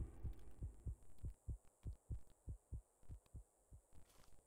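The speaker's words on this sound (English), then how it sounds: "what sounded like a heartbeat" Heartbeat sound effect in the horror game Betrayer: a steady series of soft, deep thumps, about a dozen evenly spaced pulses over a faint background hum, with no talking.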